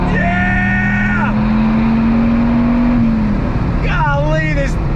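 A 2006 Dodge Viper SRT10 engine accelerates hard and loud, its pitch climbing steadily through the gear before a brief drop at the shift, then it pulls again.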